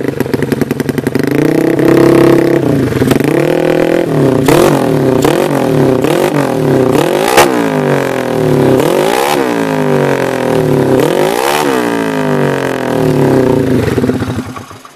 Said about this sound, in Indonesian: Knalpotnya kita pakai produk CRD ya, tadi udah dibahas, dan suaranya seperti ini,